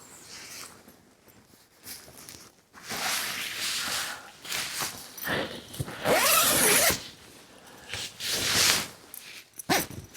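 Zipping up the inner door of a Hilleberg Soulo tent, a three-way zip: several close, loud zipper pulls of varying length, bursts separated by short pauses and rustling fabric.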